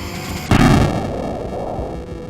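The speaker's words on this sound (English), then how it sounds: "the sound effect of you dying, the explosion, is so much louder than anything else in the game" Car explosion sound effect from the SNES game F-Zero, a sudden loud synthetic blast with a harsh noisy burst that decays over about two seconds, heard alone after a brief quieter lead-in.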